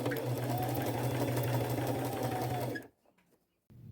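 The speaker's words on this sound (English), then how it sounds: "I'm going to go sew it on, staying close to the edges and using my zigzag stitch." A sewing machine runs a zigzag stitch along the edge of a white shirt, a steady close mechanical whir that holds for nearly three seconds, then stops abruptly, followed by a near-silent pause and a faint resumption.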